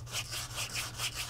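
Steady back-and-forth rubbing on a part of an Atari Logo joystick, turned and rubbed by hand during a restoration, giving about six soft, even scraping strokes close up with no talk.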